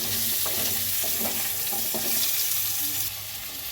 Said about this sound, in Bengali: দিয়ে এগুলোকে একটু লাল লাল করে ভেজে নেব